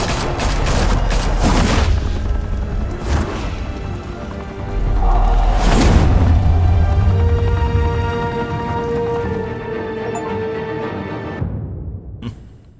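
Gunfire in the video game Batman: The Telltale Series comes in several loud, sharp volleys of rapid shots, with booming bursts early and mid-way before fading to a quieter tail.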